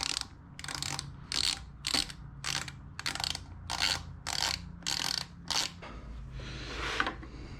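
A ratchet wrench tightening a part on a Sportster motorcycle fender, about ten crisp clicking strokes in an even rhythm, close and clear, followed by a brief fumble of handling.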